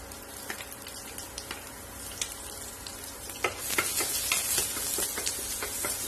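Steady sizzling of chopped green chilies frying in hot oil, with scattered crackles and pops and a brief louder burst partway through; no voices.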